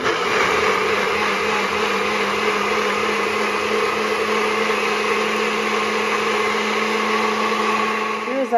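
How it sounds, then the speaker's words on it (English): A blender purees barbacoa sauce, a steady high whirring motor drone running loud and continuous before stopping abruptly at the end. "And then we're gonna blend it up."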